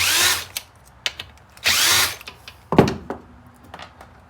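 A power driver whirs in short bursts to back out three T30 screws from the camshaft retaining plate of a Polaris Ranger 700 engine during teardown, with metallic clinks and a thunk between the runs.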